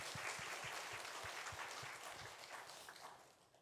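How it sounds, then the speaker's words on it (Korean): A church congregation applauds the student group after their camp, a steady wash of clapping with a few close, thumping individual claps, sustained for a few seconds before tapering off at the end. "한번 박수 한번 쳐줘요"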